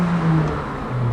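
A McLaren 765LT engine drones with a deep, steady tone that dips and then rises again, loud and close, in a brief burst with no voices.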